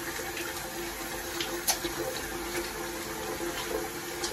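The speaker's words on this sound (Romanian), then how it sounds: "să dau drumul la apă caldă" A kitchen tap runs water steadily while tripe is washed for tripe soup, a close continuous splashing hiss with a few louder spatters, and no one speaks.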